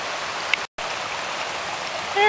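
A river in the Smokies running high after heavy winter and spring rain, heard as a steady broadband rush of flowing water with a brief dropout and a faint tonal sound at the end.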